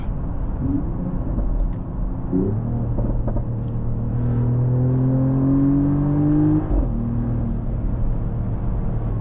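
A Mercedes-AMG GLE 53 Hybrid engine revs and rises in pitch under acceleration, its exhaust note loud and close with a steady rumble, then eases off near the end.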